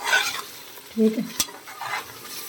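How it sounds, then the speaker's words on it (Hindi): Bell peppers and chicken being stir-fried in a pan, with steady close sizzling and scraping stirs. One short spoken phrase sits among the cooking noise. "जी हम बना रहे हैं शिमला मिर्चें और चिकन"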